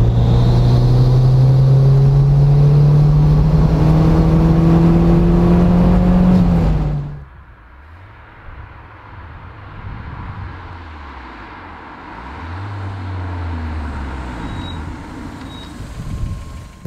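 A 1991 Toyota Celica Turbo 4WD engine revving, a loud steady high drone for several seconds that cuts off abruptly, followed by quieter idling with a few soft blips of throttle.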